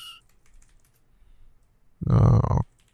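A brief burst of keyboard typing, about half a second of rapid clicks after a quiet stretch, close and fairly loud, with no speech over it.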